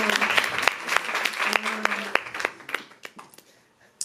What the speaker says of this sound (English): Give you guys some a round of applause.